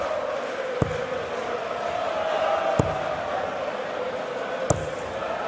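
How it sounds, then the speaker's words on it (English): A darts crowd at the 2016 Dutch Darts Masters semi-final chanting a player's name, a steady broad roar of many voices in a large hall, with three sharp thuds punctuating it. "The crowd are singing his name"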